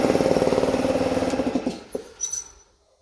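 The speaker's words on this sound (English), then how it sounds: "I'll just turn this compressor off" A workshop air compressor runs loudly with a steady pulsing motor chug, then shuts off and winds down, leaving a few faint clicks and knocks before silence.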